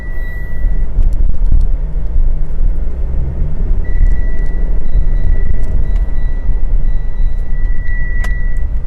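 A Mitsubishi Triton 2.4 Athlete double-cab pickup rated at 181 horsepower accelerates with a loud, steady low engine rumble that holds throughout, without talk.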